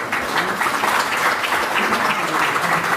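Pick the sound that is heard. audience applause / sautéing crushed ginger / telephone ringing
audience applause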